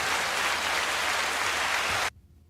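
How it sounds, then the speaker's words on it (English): Dense, steady clapping from a group fills the clip, then cuts off abruptly near the end, leaving near silence. "A little clapping."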